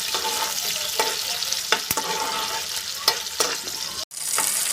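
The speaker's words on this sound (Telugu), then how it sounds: "ఉల్లిపాయ పచ్చిమిరపకాయ అయితే ఫ్రై అయిపోయాయండి" Onions and green chilies fry in a pan with a continuous bright sizzle and a few sharp stirring scrapes, close and alone.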